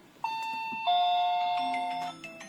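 An electronic doorbell chime from an OS359FA face ID fingerprint smart lock plays a sustained two-tone melody, clear and close, followed by a few softer tones fading out.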